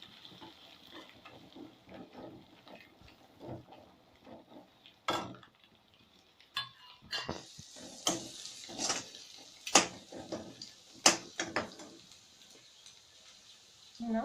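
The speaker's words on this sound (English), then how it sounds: "let us add our scrambled egg to it" Scrambled egg goes into a pan of frying ginger garlic paste for egg fried rice, bringing a soft sizzle beneath sharp metal clinks and scrapes of a spatula against the pan, close and uneven.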